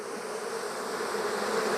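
Dense, steady buzzing of honey bees at an open hive during an inspection, a continuous close drone holding at an even level throughout.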